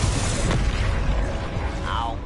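A Confringo blasting-spell explosion in Hogwarts Legacy booms loudly with a broad, sustained roar that fills the whole moment, while a voice is heard over it.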